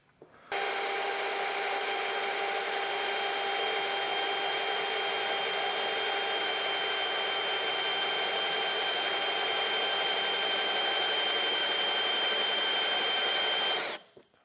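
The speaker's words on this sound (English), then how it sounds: "we'll be drilling in the center of this area here" A power drill with a 3/8 bit runs steadily for about thirteen seconds, drilling through sheet metal for a base plate on a 2015 Chevrolet Spark, a loud continuous whine that starts and stops abruptly, with no one talking.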